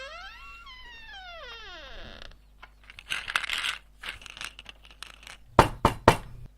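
Hard pounding on a barn door in the video game This is the Police, a few scattered knocks followed by three loud, sharp bangs near the end after a falling wailing tone.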